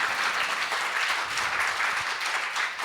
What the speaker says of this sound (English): So can we give our speakers on both sides of the House a round of applause?